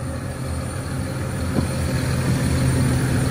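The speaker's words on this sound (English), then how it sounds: "It's driven by a John Deere engine up here behind the cab." A 240 to 280 horsepower John Deere diesel engine mounted behind the cab of a self-propelled crop sprayer runs at a steady idle, a continuous close rumble with one faint knock partway through.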